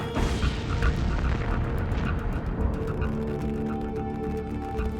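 A fireworks factory in Kolding, Denmark explodes in deep ground-shaking booms, a dense rumbling roar with crackling bursts that settles into a continuous loud rolling blast.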